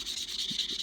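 A Taurus 689VR revolver being wet sanded with 1200 grit paper, producing a steady, soft, close-up rubbing hiss with slight strokes and no talk.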